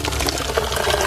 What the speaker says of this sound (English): I'm going to rinse this pot out